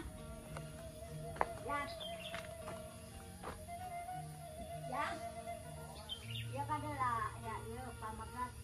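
Small birds chirp and call intermittently in a peaceful Indonesian village countryside, with short tweets and trills scattered near and far while people talk softly underneath.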